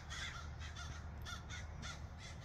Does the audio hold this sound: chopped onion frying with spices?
no